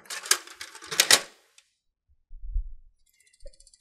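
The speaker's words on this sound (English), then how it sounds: "close the side cover of the printer" Plastic side cover of an HP CP4525 color laser printer being shut: a quick series of sharp clacks and rattles, then a softer thud and a faint click, close by with no talking.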